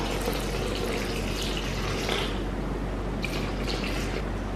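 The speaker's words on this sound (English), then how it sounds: "Okay, I need to get 75 grams of warm water." Warm water pours steadily from a kitchen tap into a measuring container on a scale, a constant, close hiss and splash that never stops or changes for the whole stretch.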